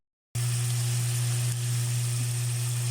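Pork frying for sinigang gives a loud, steady sizzle that runs unbroken after a short silent start, with a constant low hum underneath.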